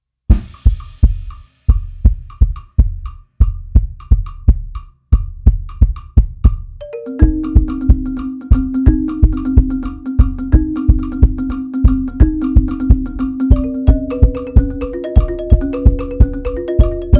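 Octapad pads tuned to chords are struck in a steady repeating rhythm. A low, thumping electronic pattern first plays alone, then sustained chord tones join in as the pads are played back and forth between them, loud and close with no voices.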